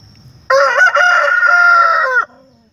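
A rooster, father of a flock of young chickens, gives one loud, close crow lasting nearly two seconds, rising and holding before cutting off, with quiet farmyard background before and after.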